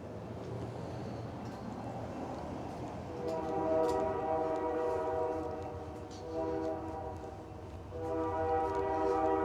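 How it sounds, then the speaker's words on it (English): A freight train passing near railroad tracks in small-town Iuka, Mississippi, its horn sounding in long sustained blasts, repeated three times over a steady low rumble from a moderate distance, with no talking. "I hear a train in the background."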